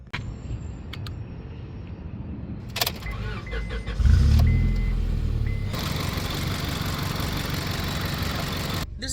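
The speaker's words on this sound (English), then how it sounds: "This is the second time that I had to boost the car this morning." A car engine runs after a jump-start, with a steady low rumble that swells partway through and holds at a moderately loud level, with some clunks and rustling and no talk.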